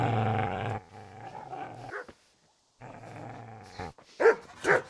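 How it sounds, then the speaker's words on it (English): A dog in Kingdom Come: Deliverance growls with a low, rumbling snarl, pauses, then breaks into sharp, close barks that rise in loudness toward the end. "Get away, you mutt!"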